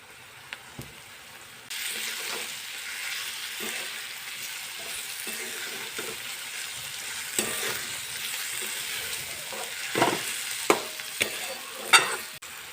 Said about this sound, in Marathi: कांद्याला अजून थोडंसं फ्राय होऊन देऊ